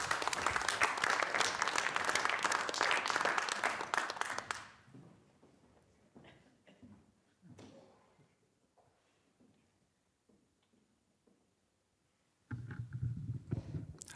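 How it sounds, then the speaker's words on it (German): At a German poetry reading, an audience applauds loudly as a performer comes on stage. The applause fades into a long quiet stretch of faint scattered noises, then a loud burst of clapping returns near the end. "Bitteschön, Applaus."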